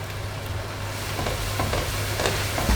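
Spices being stirred into sweated onions and garlic in a pan for a home-cooked chicken tagine, a soft steady sizzle with scraping stir strokes over a low constant hum, close and fairly quiet.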